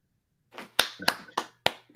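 Five sharp, distinct hand claps in an uneven rhythm, close and crisp, with a faint low hum in the background.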